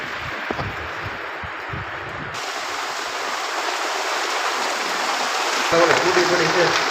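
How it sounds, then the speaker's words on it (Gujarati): Daytime rain pouring down outdoors: a dense, steady hiss of falling water that swells slightly louder toward the end, with voices faintly audible beneath it. "વરસાદ આવી ગયો છે"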